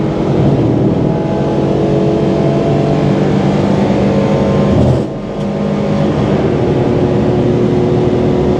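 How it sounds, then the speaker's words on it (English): Citroen C1 race car engine held at full throttle on a track, a loud, steady drone filling the whole stretch, with a brief dip near the middle as the driver lifts before the note picks up again. "Full throttle through the craters, and then brake late, down a third."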